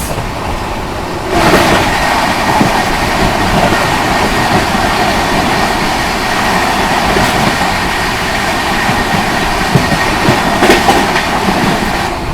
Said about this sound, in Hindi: फतेहपुर स्किप करते ही सामने से आ रही है आनंदगढ़ सीतामढ़ी लिच्छवी एक्सप्रेस